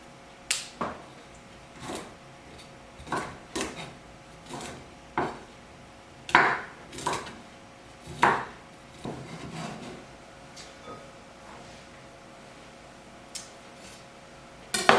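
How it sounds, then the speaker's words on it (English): Knife cutting broccoli into florets on a cutting board in a home kitchen, a series of sharp, close chops and snaps spaced irregularly, with some louder strokes midway and no talking. "we can kind of just cut this chunk off the bottom here, and it really easily breaks it up into some nice little trees"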